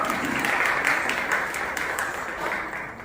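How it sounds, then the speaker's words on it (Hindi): Audience applause at a kathak dance event in a gymkhana hall, a steady wash of many hands clapping at moderate volume that slowly tapers off. "उसके लिए भी एक बार जोरदार तालियां और धन्यवाद आपका।"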